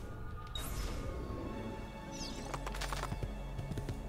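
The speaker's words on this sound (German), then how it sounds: "Oh, geben wir mal Gas mit dem Pferdchen." A horse's hooves clip-clop steadily in Assassin's Creed 2, with a continuous rumble of game ambience underneath and a brief bird-like chirp partway through.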